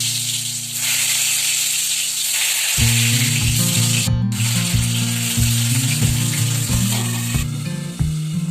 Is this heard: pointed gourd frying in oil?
yes